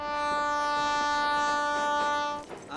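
A Secunderabad to Bangalore passenger train sounds a long, steady horn blast, loud and sustained with rumbling rail noise beneath, cutting off near the end.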